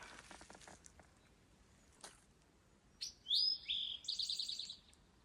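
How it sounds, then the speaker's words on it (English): An eastern towhee sings on the Appalachian Trail, giving a few bright, clear whistled phrases close by after a quiet stretch with faint rustling. "You hear that little bird? It's an eastern towhee. He says, drink your tea."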